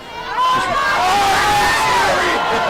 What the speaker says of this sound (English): In case you were wondering who won the free kick, just take a listen to the crowd here at Pottlefield